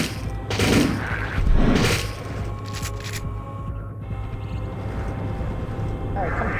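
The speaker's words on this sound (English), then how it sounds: "I'm literally shooting a tranquilizer at them" A tranquilizer gun in Turok 2: Seeds of Evil on the N64 fires two close, punchy shots about a second apart, followed by a couple of fainter pops under steady game background noise.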